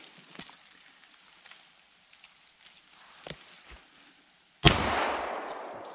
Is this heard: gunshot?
yes